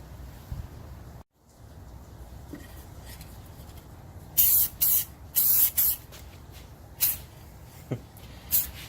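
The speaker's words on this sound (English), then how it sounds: "let's get some clear coat on there and see how it goes" Spray can of clear coat misting onto a pinewood derby cyclekart, several short hissing bursts in the second half, loud and close, after a quiet lead-in with faint handling noise.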